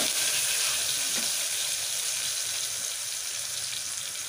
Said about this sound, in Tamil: சிறு வெங்காயம், சிறு வெங்காயம் போட்டு நல்லா ஃப்ரை பண்ணிவிட்டு